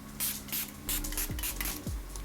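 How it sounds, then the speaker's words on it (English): Milani Make It Last sunscreen setting spray, SPF 30, gives several quick, close hissing bursts in a loose rhythm with short pauses between them, and no voices. "I'm gonna use my Make It Last sunscreen setting spray from Milani with an SPF of 30."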